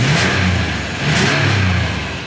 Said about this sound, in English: Engine revs up nicely, idles smoothly